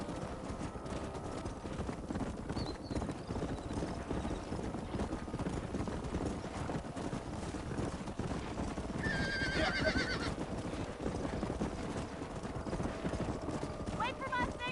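Horses in the Red Dead Redemption video game gallop with steady, rapid hoof clip-clops throughout, breaking into loud neighs and whinnies, while voices murmur underneath.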